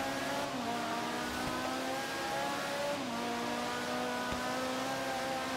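A Ferrari racing in Forza Horizon 3, its engine holding a steady high rev with rising and falling pitch as it shifts, loud and continuous with faint tire noise and no talk.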